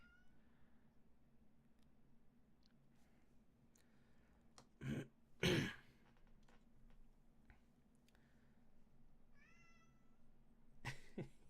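A feral cat meows a few times, short, faint cries over a low steady indoor hum, with a couple of louder bumps in between.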